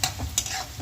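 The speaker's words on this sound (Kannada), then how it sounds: "ಇದು ಸ್ವಲ್ಪ ಮೆತ್ತಗಾಗೋವರೆಗೆ ಸೌತೆಕಾಯಿನ ಫ್ರೈ ಮಾಡಬೇಕು" Cucumber pieces frying and being stirred in a pan for a Karnataka-style cucumber gojju, giving a soft continuous sizzle with a few brief scraping stir strokes, close and fairly quiet.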